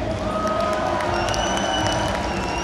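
Audience applause and cheering at a presentation of the game Die Siedler, a dense steady wash of clapping from a crowd filling the hall, with sustained tonal music or sound under it.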